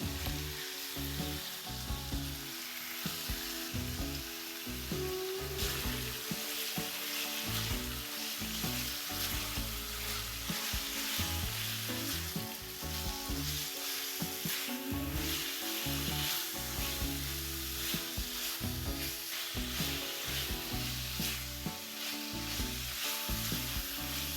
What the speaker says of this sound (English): fry the marinated chicken pieces until they turn white and are cooked through.